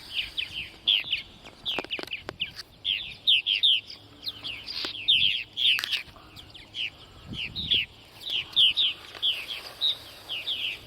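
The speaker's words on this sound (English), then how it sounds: "Okay, birds are coming back in." Purple martins chirp and twitter in quick repeated bursts throughout, fairly close, on an evening in Center Moriches, Long Island, New York, with occasional soft thumps and rustles in between.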